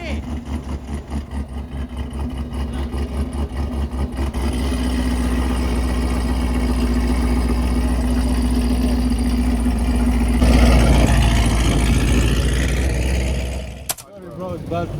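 A Toyota Camry engine revs loudly and steadily for most of the stretch, a deep sustained drone that rises in intensity, cuts off sharply near the end and then resumes.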